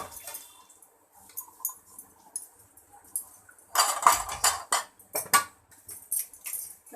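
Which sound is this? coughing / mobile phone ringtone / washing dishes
washing dishes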